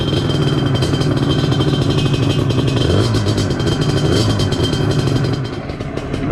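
A Targa Twin 275cc motorcycle engine with a new exhaust and clutch springs on a test ride in North Yorkshire, droning loudly and steadily with wind rush throughout, easing slightly at the end.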